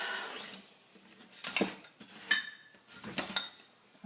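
Paint being mixed on a palette, with scattered clinks and scrapes of a brush or tool against a hard surface and some quiet stirring between the louder taps.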